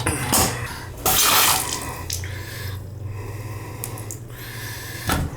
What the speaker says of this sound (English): Sounds like the toilet's got a leak too.